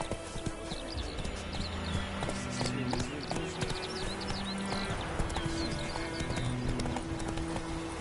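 A horse's hooves clop at a brisk trot in The Witcher 3: Wild Hunt, a steady rhythmic beat over game music and ambience. A brief voice speaks during the clip.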